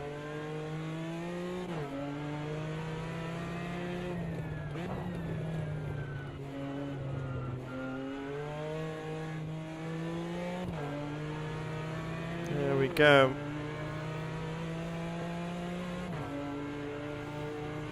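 An onboard GT race car engine in a sim racing video game drones steadily, rising and falling as it revs up through gears and drops on shifts, with a brief sharp spike partway through and a short spoken remark.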